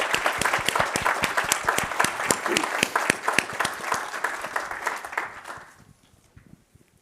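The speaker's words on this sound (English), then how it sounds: "So you guys can clap." An audience at a university fireside chat with a Federal Reserve governor breaks into sustained applause, dense steady clapping that carries on for about five seconds, then thins into a few scattered final claps before fading out.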